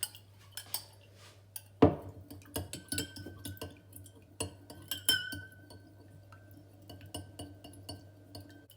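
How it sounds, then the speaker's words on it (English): A spoon stirs sugar into a liquid in a glass to dissolve it, giving quiet repeated clinks and scrapes against the glass, with one sharper knock near the start and a steady low hum underneath. "we'll just keep stirring, try and get it all to dissolve."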